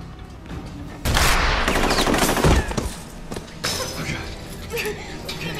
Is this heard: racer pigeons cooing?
no